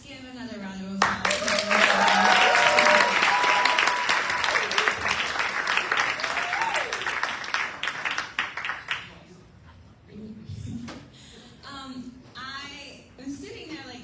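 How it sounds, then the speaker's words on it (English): An audience at an arts-institution keynote featuring teen performers claps loudly for several seconds. The applause thins out and fades, and then a person begins talking. "Let's give another round of applause."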